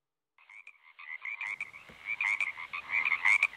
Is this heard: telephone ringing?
no